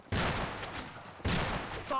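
Gunfire in the Western multiplayer shooter Fistful of Frags, two loud broadband bursts of shots about a second apart, with a faint voice underneath.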